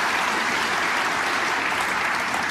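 A snooker crowd at the German Masters applauding a shot, a dense, loud, steady wash of clapping from many hands that fills the whole moment.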